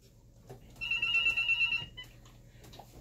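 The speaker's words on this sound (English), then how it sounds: "whether or not the freaking phone is ringing" A telephone rings once in a short electronic burst of about a second, fairly faint, against a quiet indoor room with no talking.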